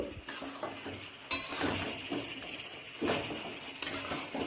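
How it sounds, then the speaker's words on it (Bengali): A utensil stirs chopped winter vegetables with spinach in a pan, clattering and scraping against the metal in irregular bursts over a faint sizzle. "পালং পাতাটা সবজির সাথে ভালো করে মিশিয়ে নেব"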